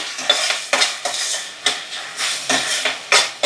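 Ginger garlic paste frying with tomato in a pan for masala peas chaat, a steady hiss broken by repeated scraping strokes of a spoon or spatula against the pan at a quick, even rhythm, close and moderately loud.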